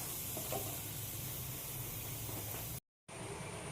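Sliced onions fry in oil for a Kerala-style chicken curry, giving a soft, even hiss and sizzle near the pan that cuts out briefly to silence before resuming.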